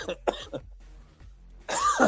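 A couple of short coughs and throat clearing, followed by a brief louder burst of noise.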